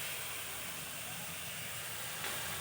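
Cut potato frying in a pan gives a steady, even sizzling hiss, close and unbroken, with no voices over it.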